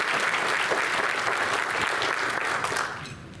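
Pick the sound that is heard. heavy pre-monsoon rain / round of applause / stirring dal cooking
round of applause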